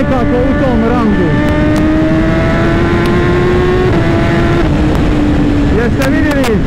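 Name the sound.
BMW S1000RR motorcycle engine at full throttle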